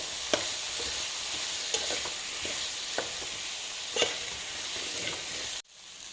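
Vegetables, tomato, chilli and coriander powder frying in a pot for toor dal saaru, a steady sizzle broken by several sharp spoon-against-pan stirring knocks, ending abruptly near the close.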